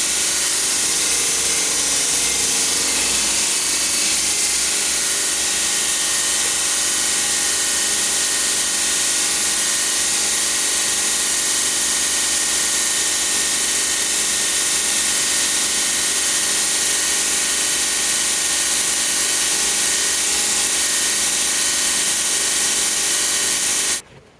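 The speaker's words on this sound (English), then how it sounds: "Then we'll drill some pins." A power drill bores pin holes through a spring steel knife's hidden tang and wooden handle, a loud, steady whine that runs unbroken for over twenty seconds before cutting off abruptly.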